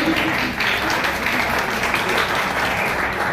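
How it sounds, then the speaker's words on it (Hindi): Steady, loud applause from an audience welcoming a guest at a ceremony in Mau, India, with dense, continuous clapping filling the room throughout and no pauses. "इनका जोरदार ताली में स्वागत किया जाए"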